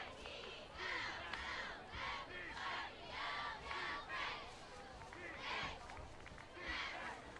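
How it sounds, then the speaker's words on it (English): High school football crowd at a Roosevelt vs King game, roaring and cheering the defense in repeated swelling bursts, loud and close, with voices shouting through a steady stadium din. "As the crowd roots on the defense."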